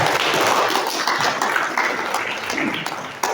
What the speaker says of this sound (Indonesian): Tepuk tangan dulu Bapak dan Ibu semua.